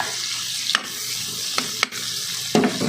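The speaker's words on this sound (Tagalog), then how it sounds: "Gigisahin lang natin dito at ibubuhos na natin doon yan guys." Vegetables and chili sautéing in a pan for a coconut-milk vegetable dish, giving a steady close sizzle with a few sharp clatters of stirring spaced across the clip; no talking.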